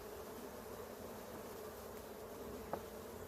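Honeybees buzzing steadily around an open hive during an inspection, a dense continuous drone close by with one brief knock near the end.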